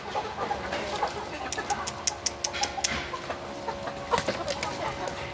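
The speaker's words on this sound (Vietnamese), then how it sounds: "Gà đen." Hmong black chickens cluck faintly and intermittently over a steady hiss of ambient noise, with short sharp calls scattered throughout.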